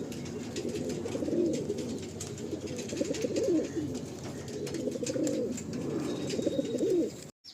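Several pigeons coo in their lofts, soft rolling repeated coos overlapping at close range against a faint background hum, with no talking.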